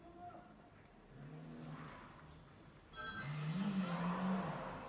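A car engine in a video game on a PSP Go hums quietly, then swells louder as it accelerates with a rising whine, fairly faint overall and without speech.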